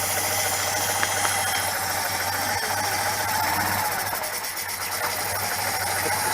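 A Citroen 2CV engine running after a start, with a busy, steady mechanical chatter and hiss held close and constant, dipping briefly near the end.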